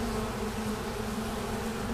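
Honeybees buzzing around a freshly released queen during a November hive removal: a dense, close, continuous droning hum with no pauses and no voices.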